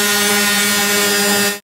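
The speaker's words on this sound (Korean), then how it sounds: "이 거친 부분은 샌딩 작업을 하도록 하겠습니다" A power sander running steadily on a rough hinoki cypress wood board while making a steamer, giving a loud, close, continuous whirring hum that cuts off abruptly near the end.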